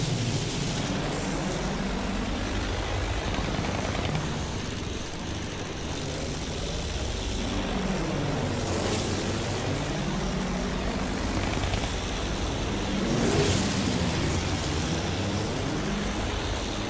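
A fighter plane in the Battlefield 1 video game drones loudly and continuously, its propeller engine swelling and dipping in pitch as it manoeuvres through the air.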